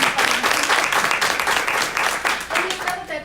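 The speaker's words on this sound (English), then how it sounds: "Okay, you can clap better than that." Audience applause at a business opportunity presentation, dense continuous clapping from a crowd filling the whole stretch, fairly loud and close.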